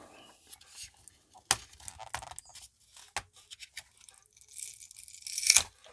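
Double-sided tape is peeled off the batteries of a DJI Osmo Mobile 2 phone gimbal, making quiet, sticky tearing and crackling sounds in short bursts, with soft handling noises close by.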